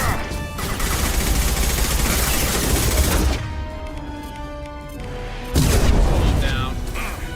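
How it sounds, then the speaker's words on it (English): Weapons firing during Mass Effect 2 combat: a dense wash of gunfire and booms for about three seconds, a brief lull of quieter tonal game sound, then another loud burst of fire near the end, with voices talking over it. "Firing."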